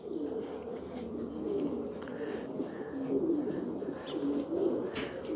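Pigeons and their young chicks on a rooftop coo softly and repeatedly, low murmuring calls overlapping in a steady, fairly quiet stream with a few brief higher chirps.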